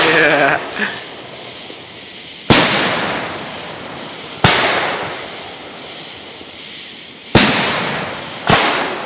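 Heavy fireworks burst overhead at night, with four or five loud, sharp booms spaced a few seconds apart. Each is followed by a long crackling, rumbling decay, and a voice and brief cheering can be heard between the blasts.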